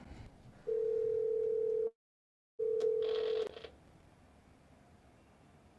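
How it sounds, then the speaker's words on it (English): A telephone redialing a number gives a steady dial tone, a short silence, then the tone again followed by a brief burst of dialing tones, before only a faint line hiss remains. "we're going to redial him"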